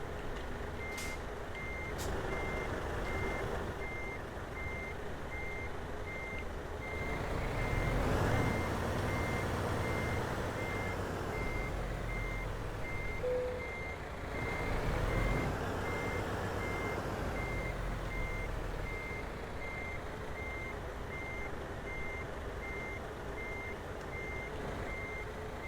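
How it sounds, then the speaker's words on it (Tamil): Regular, evenly spaced reversing beeps from a truck backing up in Euro Truck Simulator 2, repeating steadily over a low idling diesel engine rumble, with an occasional hiss and rise in engine noise. "ஓகே, இப்போ நம்ம அந்த வண்டி ரிவர்ஸ் எடுப்போம்."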